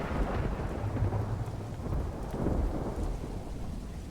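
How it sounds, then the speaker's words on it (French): Deep thunder rumbles steadily over a continuous wash of rain in the gardens level of the video game Doors, filling the whole stretch with low, rolling noise and no voices. "Des fois, il fait 2 éclairs."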